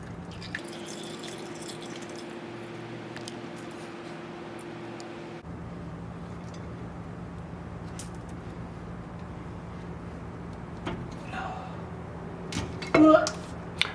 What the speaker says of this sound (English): And dripping.